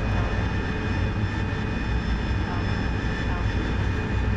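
A fighter jet engine in the DCS World flight simulator roars in a steady, broadband rumble with a faint high whine, loud and constant throughout.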